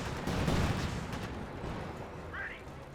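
Mortar carriages and machine-gun fire in a Company of Heroes 2 battle, a dense rumbling barrage of overlapping booms and shots, loudest early and then easing into steady distant battle noise.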